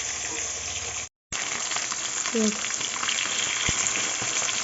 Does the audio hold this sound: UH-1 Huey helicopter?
no